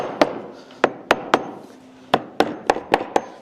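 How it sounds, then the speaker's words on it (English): A hammer taps a stuck screw in an expensive wooden table, giving about nine sharp, close knocks at an uneven pace, with brief pauses between some strikes. "I'm going to tap it with a hammer a little bit."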